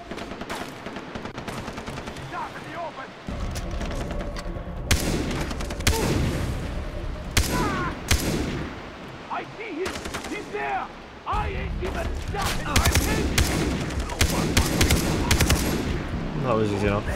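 AK rifle fire in the video game Far Cry 3, loud rapid bursts and single shots repeating over several seconds, mixed with booming impacts and other in-game noise.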